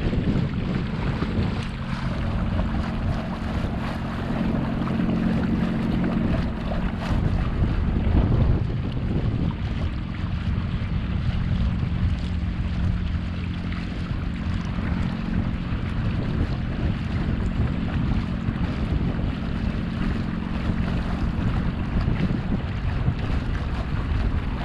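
Wind roars against an Old Town Sportsman boat as it heads into the wind on open water. The gusting noise is loud and continuous, with a low rumble and water sounds beneath, and no one speaks.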